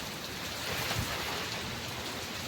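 Heavy rain falling with wind in a Gujarati village during a storm, a dense continuous hiss of downpour with a brief low gust or rumble near the middle, no talking.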